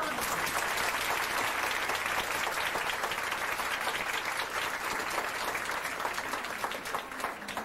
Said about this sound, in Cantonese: 我哋熱烈嘅掌聲歡迎朱代興先生